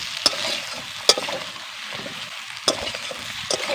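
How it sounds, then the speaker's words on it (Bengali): Ridge gourd and potatoes are stirred with spices in a hot pan, with a soft continuous sizzle and several sharp scrapes of the spoon against the pan, close by and with no voices. "এবার ভালো করে মশলার সঙ্গে মিশিয়ে নেব ঝিঙে আর আলুকে"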